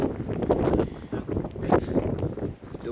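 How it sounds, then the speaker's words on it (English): Gusty, warm wind outside a house in Bulgaria buffeting the microphone in a low, rumbling roar that swells and eases over a few seconds, with no clear voices. "It's a bit windy today"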